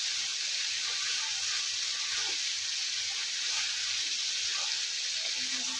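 Spice paste thinned with a little water sizzles and hisses steadily in a pan for a Bengali prawn, ridge gourd and poppy seed curry, a continuous close frying sound with faint stirring.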